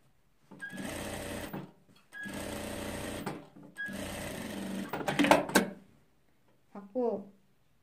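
A sewing machine stitches a side pocket seam in three close bursts of rapid, buzzing needle action separated by short pauses, followed by clicks and handling noises as the fabric is adjusted.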